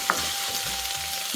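Jackfruit being mixed with salt in a pan for a kurma, a brief soft sizzle with a faint scrape of stirring under a steady frying hiss.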